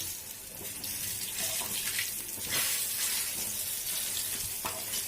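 Brinjal slices frying in hot oil for a crispy brinjal fry, giving a steady, fairly loud crackling sizzle throughout with a few brief sharper pops and no talking.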